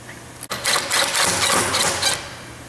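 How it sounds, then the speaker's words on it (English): Rapid mechanical ratcheting from a wrench tightening a Plategrip belt splice fastener, a steady loud run of clicks lasting about a second and a half before stopping. "install our wrench, and begin to tighten."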